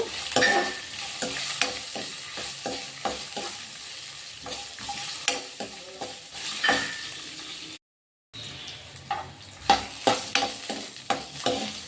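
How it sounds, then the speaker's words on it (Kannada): Ginger and spices frying in hot oil in a pan, a steady sizzle with repeated scraping and stirring clatter of a spoon against the pan, close and fairly loud, with a brief dropout partway through. "ಸ್ವಲ್ಪನೇ ಸ್ವಲ್ಪ ಶುಂಠಿ ಹಾಕ್ಕೊಳ್ತಾ ಇದ್ದೀನಿ ಇವೆಲ್ಲ ಚೆನ್ನಾಗಿ ಫ್ರೈ ಮಾಡ್ಕೊಳ್ಳೋಣ ಫಸ್ಟು"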